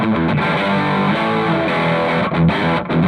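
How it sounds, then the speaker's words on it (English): Electric guitar through a Devilcat Jimmy amp on its heavy overdrive channel, played on the bridge pickup: dense, loud distorted crunch chords ringing continuously with short rhythmic breaks. "engage the heavy overdrive channel right now on the bridge pickup"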